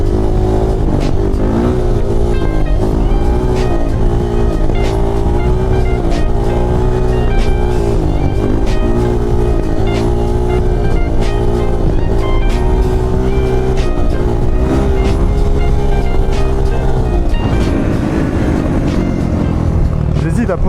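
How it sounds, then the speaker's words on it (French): A motorcycle engine runs steadily and loudly throughout, with continuous revving and rumbling and no talk over it. "avec une moto qui tourne bien"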